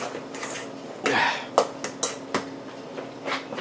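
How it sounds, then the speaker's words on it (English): Mashed potatoes being stirred with butter in a pot: a run of close, sharp utensil clinks and scrapes against the pot at an irregular rhythm over a low steady hum. "And I'm stirring it."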